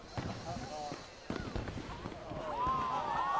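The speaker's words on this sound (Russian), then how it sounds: "Салют." Fireworks in the video game Red Dead Redemption 2, a series of close pops and crackles with faint whistling trails, mixed with voices talking over them.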